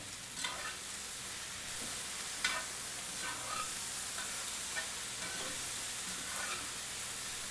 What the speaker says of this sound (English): chase them around in the pan, and you can see that some of the squash is already getting brown against the hot surface of the pan